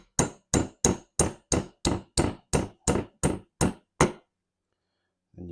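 Eleven sharp, evenly spaced hammer strikes ring out on a punch driving a Snoo motor bearing out of a part held in a vise, each hit loud and close with a short decay, then silence and a faint low sound at the end.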